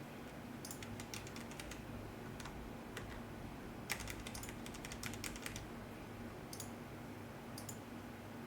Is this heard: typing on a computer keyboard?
yes